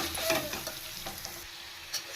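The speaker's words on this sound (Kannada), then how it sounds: "ಈಗ ತುರಿದಿರೋಂಥ ಮಾವಿನಕಾಯಿ ಸೇರಿಸ್ತಾ ಇದ್ದೀನಿ. ಮಾವಿನಕಾಯಿನೂ ಹಸಿ ವಾಸನೆವರೆಗೂ ಹೋಗೋವರೆಗೂ ಚೆನ್ನಾಗಿ ಫ್ರೈ ಮಾಡಬೇಕು." Grated raw mango frying with onions over a low flame, a soft, quiet sizzle with occasional light scrapes of a spoon against the pan, no voices.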